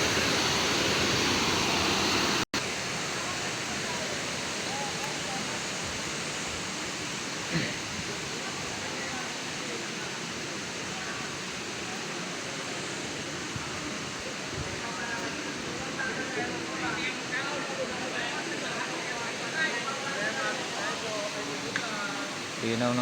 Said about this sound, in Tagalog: Yun doon yung falls ang yun yung malalim.